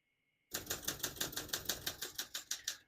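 Keys striking on a 1968 Olympia SM9 portable typewriter, a steady run of about a dozen crisp, evenly spaced clacks, close and loud, with no voice.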